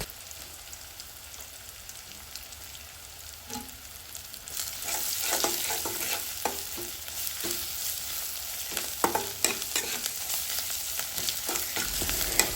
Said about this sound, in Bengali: নেড়ে চেড়ে মশলা আমরা ভালোভাবে কষিয়ে নিব